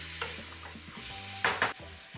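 Whole spices fry in oil in a pot for vegetable biryani, giving a close steady sizzle broken by scraping stirs and two sharper bursts partway through.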